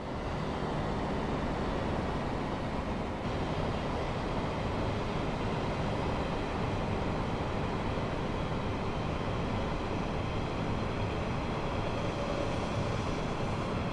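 A train rolls past on the Maintalbahn line in Train Sim World, a loud steady rumble of wheels and engine noise that holds without pause, with no talk.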